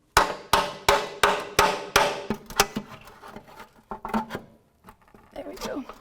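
Locking pliers being worked on the drain plug of a 2005-2009 Subaru Outback oil pan, a run of sharp metallic knocks in quick rhythm, close and loud, then scattered clanks and scraping as a person talks.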